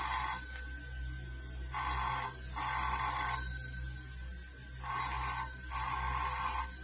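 A telephone rings in a home, two bursts of an electronic bell, each a pair of rapid trilling pulses, repeating with a pause between, steady and moderately close over a low background hum.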